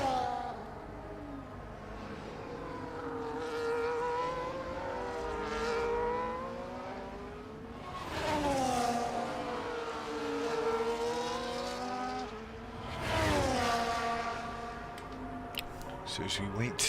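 Race car engines in a sim racing game at a Netherlands circuit, revving and shifting in repeated rising sweeps through a chicane, loud and steady beneath continuous commentary.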